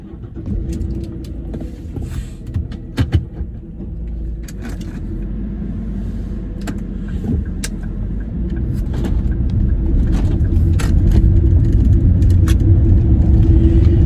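A Jaguar S-Type saloon cruises along a country road, its steady low engine and road rumble droning continuously and growing slightly louder toward the end, with a few faint interior rattles.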